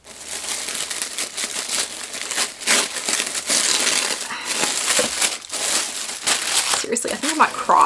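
Tissue paper crinkles and rustles steadily while a luxury Chanel purchase is unboxed, a close, dense crackling texture that runs almost without pause, with short louder crushes and a light tap near the end.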